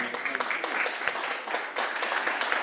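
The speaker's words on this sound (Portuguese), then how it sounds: "Aplauda o Senhor, você pode?" A church congregation claps steadily together in a dense, continuous wash of applause that fills the space.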